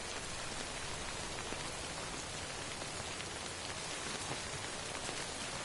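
Timefall rain in the video game Death Stranding pours down as a steady, dense hiss of raindrops hitting surfaces, unbroken and even for the whole stretch, with no voices.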